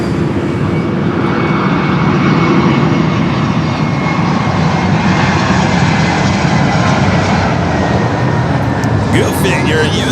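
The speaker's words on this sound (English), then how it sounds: "Toontown livery on this Alaska 737 now rolling down to 24 left" An Alaska Airlines Boeing 737 in Toontown livery rolls down runway 24 left at Los Angeles airport, its jet engines a steady, loud, broad roar throughout, with someone talking over it.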